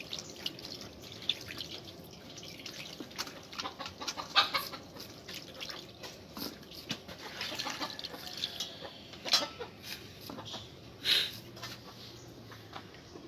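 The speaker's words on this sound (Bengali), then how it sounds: "ছানার জল ঝরানোর জন্য আমি এক ঘন্টা মতো ঝুলিয়ে রেখে দেবো" Freshly rinsed chhana (cottage cheese) hung to drain, its water falling in faint, irregular drips and trickles over a low background, with an occasional louder splash.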